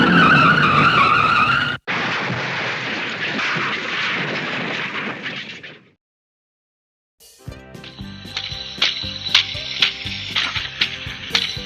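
A truck that won't stop skids with a long, rough screech lasting several seconds, then cuts to silence before music starts up.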